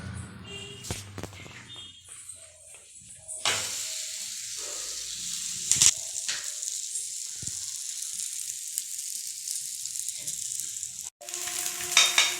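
Akki roti, a Karnataka rice flatbread, cooks on a stovetop pan with a soft continuous sizzle and hiss, marked by a few scattered clicks and knocks at the start and near the end.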